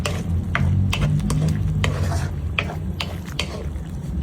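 A stir-fry dressed with soy sauce is tossed in a pan, with repeated scraping and clattering strokes of a utensil over a low background sizzle, close and uneven in rhythm.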